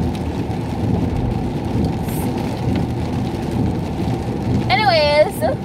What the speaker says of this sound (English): No patience, and it's raining.